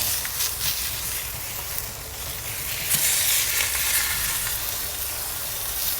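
Tomahawk steaks on a Kamado Joe Big Joe grill sizzle steadily and loudly, the hiss swelling briefly as the meat is shifted around on the grate.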